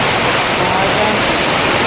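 Heavy night rain pours steadily onto a tin roof, a dense, continuous roar of drumming close overhead with no pauses.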